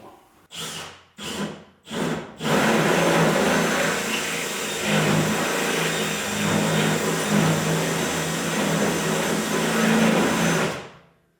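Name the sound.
power drill drilling through metal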